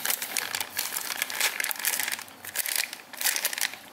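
Plastic packaging around the box contents of an SCS S-3 Bluetooth helmet intercom crinkles close up as it is opened, in irregular rustling bursts with short pauses and no voices.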